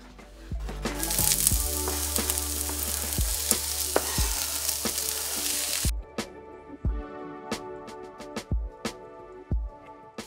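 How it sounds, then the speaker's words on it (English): Diced vegetables saute in olive oil in a cast iron pan over medium to medium-low heat. A loud, even sizzle fills the first half, then settles into a quieter fry with sharp clicks of stirring. "back here I have a cast iron pan that I've put on medium to medium low heat. Just add a couple tablespoons of olive oil there. And this goes right into saute"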